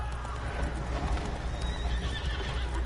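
Roach, a horse in the video game Witcher 3, gallops with rapid continuous hoofbeats over a dense rushing background, close and steady throughout.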